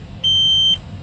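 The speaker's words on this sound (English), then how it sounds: "Buzzer, buzzer screen is used to check functioning of warning buzzer." A warning buzzer on an Eicher truck's instrument cluster gives a single steady electronic beep lasting about half a second, loud and clear over faint low engine hum.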